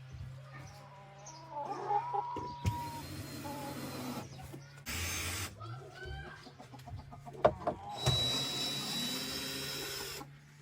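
Chickens cluck intermittently near a newly built chicken coop, mixed with clattering, banging and tool noises from work going on nearby, with a steady low hum underneath.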